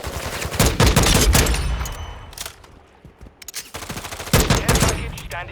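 Rapid automatic gunfire from the FTAC Recon rifle in Call of Duty Modern Warfare II, loud dense bursts of shots with a short quieter lull in the middle before another volley.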